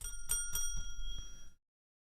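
A bicycle-style bell rings out in a quick series of bright metallic dings, about four or five strikes in a row, then stops into silence.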